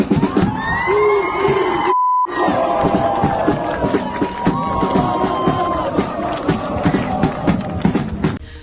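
Soldiers of the armed forces chant loudly in the open while passers-by cheer, applaud and sing along, a dense crowd of shouting voices with a brief dropout partway through.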